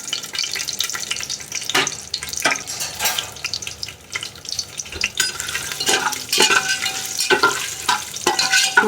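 Whole spices, including cardamom, sizzle in hot oil for mutton biryani, a steady crackling hiss with scraping stirring sounds and a few louder bursts throughout. No one speaks.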